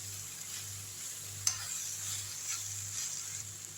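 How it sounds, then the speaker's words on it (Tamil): Rice being stirred through a pan over a low flame with a green turkey berry powder mix, a soft steady scraping and faint sizzle with one sharp clink of the spoon against the pan. "அதுக்கு மேலேயே இந்த சாதத்தை போட்டுடலாம். நல்லா கிண்டி விட்டுருவோம்."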